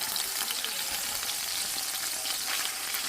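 Meat browning in a hot pan for ramen lo mein, a steady close sizzle and fry running unbroken without any talk.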